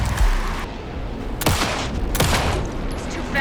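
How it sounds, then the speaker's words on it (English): Heavy gunfire in Alan Wake II during a fight with a fast enemy: dense, loud bursts of shots with two sharp, booming peaks, under a steady battle din. "Anderson, pin him down with gunfire for me to get the light on him."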